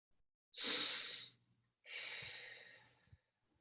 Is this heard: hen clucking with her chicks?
no